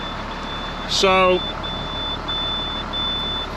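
A truck's air-brake low-pressure warning sounds after the vehicle sat unused for weeks. It is a thin, steady high-pitched tone that drops out and returns, over an idling engine, with a brief spoken word.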